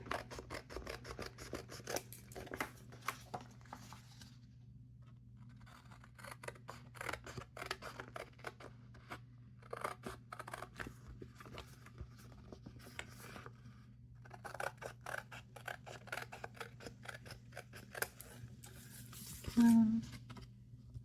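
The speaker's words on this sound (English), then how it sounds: "if I just trim it right along the outside of this embossing folder line, that it will be fine" Scissors trim paper for a bee-themed craft journal, giving repeated soft, close snipping and slicing cuts in irregular runs over a steady low hum, with occasional quiet pauses.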